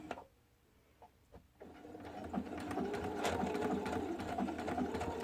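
A sewing machine stitches a fabric band onto a hat made from recycled T-shirts; after a few soft clicks as the presser foot lowers, it starts up into a steady, close mechanical whir.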